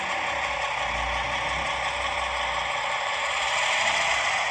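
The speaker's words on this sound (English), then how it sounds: "You hear the engine notching up." Small Atlas HO scale Trainmaster FM H24-66 model locomotive in Southern Pacific livery running its diesel engine sound as it notches up, a steady rumbling drone with faint mechanical rattle and a low pulsing hum, no talk.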